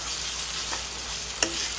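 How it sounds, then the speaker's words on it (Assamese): Broiler chicken mince fries in a pan with a continuous close sizzling hiss, broken by a sharp utensil scrape or tap near the end as it is stirred. "চিকেন কিমাটো ভালকৈ ফ্ৰাই হোৱালৈ বেছি নালাগে"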